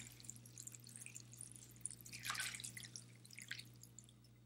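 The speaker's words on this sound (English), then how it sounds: "So you want to pour it just enough until it's covering the sea moss." Water poured over sea moss in a bowl for making sea moss gel, a quiet run of dripping and trickling splashes that swell briefly in the middle, faint over a low steady hum.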